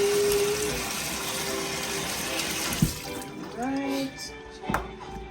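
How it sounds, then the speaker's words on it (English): Squash washed whole with its skin on under a running kitchen tap, a steady hiss of flowing water with splashes and small knocks near the end, while a voice talks over it. "We'll wash it thoroughly."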